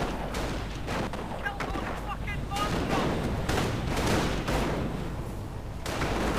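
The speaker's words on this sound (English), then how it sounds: "that's probably I mean it is a really good anti-infantry combination: rifle nades and flamethrowers." Rifle grenades and flamethrowers fire in a war video game. Dense, overlapping bangs and bursts of gunfire roll on without a break, with a voice talking over the battle.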